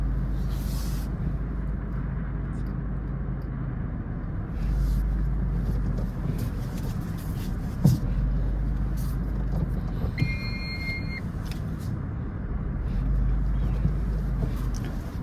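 A car driven slowly through a narrow street, reversing and maneuvering at a tight spot, with a steady low engine rumble and road noise throughout and a few brief clicks and beeps.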